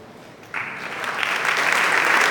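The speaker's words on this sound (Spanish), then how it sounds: "un aplauso para todos" An audience at an international seminar applauds a panel, clapping bursting in suddenly after a quiet moment and swelling into a full, steady ovation.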